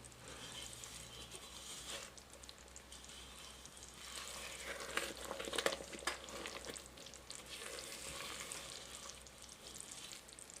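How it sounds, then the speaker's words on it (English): Caramel for popcorn boils in a pan and gets a single stir, giving a steady bubbling sizzle with soft scraping throughout, fairly close and with no talking. "it's come to a boil, so I'm going to give it 1 stir and then clean off the sides of the pan"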